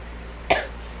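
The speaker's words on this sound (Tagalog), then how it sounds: "May ubo na rin ako." A single short, sharp cough from a person, close and clear, rising abruptly from a quiet room hum and fading within a fraction of a second.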